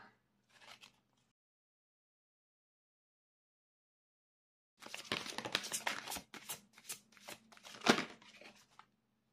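Oracle cards are shuffled and drawn, starting with a brief soft rustle, then a pause of silence, followed by several seconds of close, papery riffling and flicking bursts.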